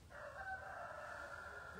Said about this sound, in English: We got more chickens.